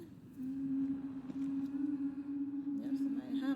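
A person hums a long, steady sustained note, faint and held almost unbroken, with a brief wavering rise near the end.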